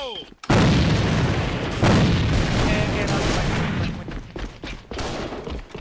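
A grenade explosion erupts in a video game, then a loud sustained roar of gunfire and blasts rolls on for several seconds, thinning into scattered shots toward the end.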